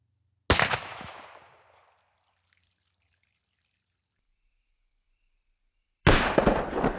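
A 28 gauge Brenneke slug fired from a shotgun at water jugs 30 yards away: one sharp, loud blast with a long decaying tail, followed by silence and then a second burst of noisy splashing and rumble near the end.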